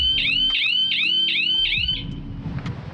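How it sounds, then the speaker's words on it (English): Alarm system on a Vauxhall Vivaro LWB campervan going off: five rapid rising electronic chirps repeat loudly and close, then cut out to leave background rumble. "if you're wondering how the alarm sounds when it gets triggered"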